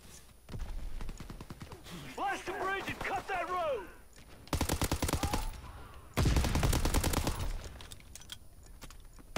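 Gunfire and explosions from a Call of Duty WW2 multiplayer battle: dense bursts of shots in two loud sustained volleys, with voices talking over the earlier part of the fight.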